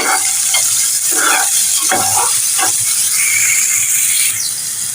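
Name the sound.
tomatoes and green chillies frying in oil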